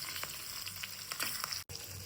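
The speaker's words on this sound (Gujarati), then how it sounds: "મરચાં બધા તળાવા મળ્યા છે." Stuffed green chilies fry in hot oil, a steady close sizzle with crackling pops throughout and one very brief dropout near the end; no talking.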